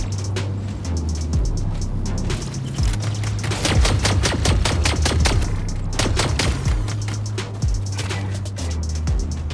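A bot mech shooting in the Mech Arena video game, rapid rhythmic bursts of machine-gun-like fire over a droning mechanical hum, loud and close, with a pause before the firing resumes.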